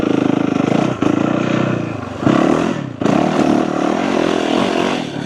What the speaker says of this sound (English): I'm so used to, for the YZ, the high revving, but this engine, it just ends so quickly.